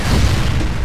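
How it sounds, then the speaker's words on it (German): An explosion in the video game Halo: Combat Evolved rolls out as a loud, deep, rumbling boom that sustains without a break and has no talk over it. "Explosion vorbei"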